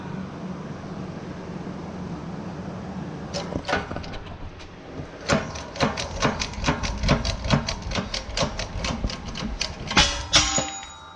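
Repeated hammer blows knocking a bearing out of a wheel hub, sharp metallic strikes in a fast, steady series that starts partway in over a low background hum, loud and close, with no voices.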